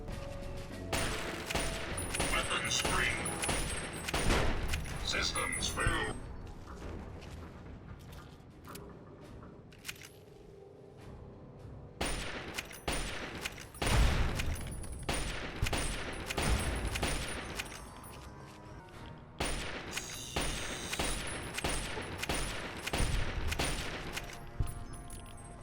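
Automated turrets fire in the video game Fallout: Tale of Two Wastelands, with repeated bursts of rapid gunfire in several loud clusters, separated by brief quieter gaps.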